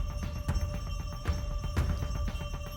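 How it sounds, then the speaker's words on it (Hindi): A mobile phone rings with a repeating electronic ringtone at moderate volume over a low background rumble. "ये इतिहास का फोन है।"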